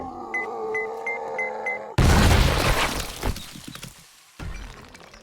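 A zombie bursting apart in 7 Days to Die: after a stretch of steady synthetic tones, a sudden loud, close blast with shattering debris hits, then rumbles and fades into scattered crackle.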